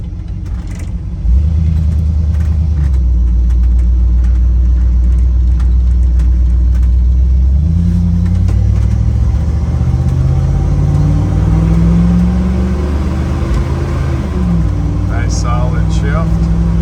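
A 1979 Ford Bronco engine revs hard under acceleration, then drops and climbs again through a gear change from second to third, a loud, close, steady rumble from start to finish.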